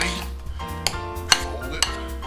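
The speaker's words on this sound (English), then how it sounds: "I'm just going to put a little bit in at a time, and then we'll just mix it slowly" Horseradish being slowly mixed into a sauce, with a few distinct metallic clinks of a utensil against a bowl over a quiet background, no talk.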